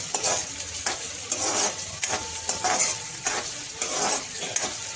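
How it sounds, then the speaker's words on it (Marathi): Onion sautéing in a pan over low gas flame, a steady close sizzle with repeated spatula stirring and scraping strokes and occasional light metal clinks throughout. "आता छान आपण कांदा थोडा परतून घेऊया आपण मंद गॅसवरच केलेला आहे"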